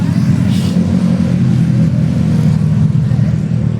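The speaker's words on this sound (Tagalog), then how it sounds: "medyo maingay lang yung dito banda mga tol, may mga sasakyan kasi na dumadaan." Vehicle engines hum steadily from a nearby roadside outside a house, a continuous low rumble of passing cars with a slight surge in the middle, fairly loud and with no talking.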